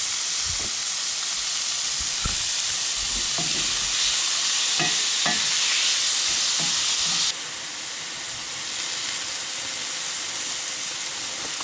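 Venison sizzles and browns in a hot pan, a loud, continuous hiss of frying. Occasional scraping and stirring knocks come through, and the sizzle drops slightly partway through.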